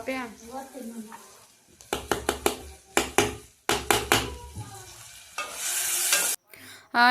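After a voice speaks and a run of spoon taps and clacks, curry leaves and green chillies hit hot oil with a sudden loud burst of sizzling that fades out before a final clack.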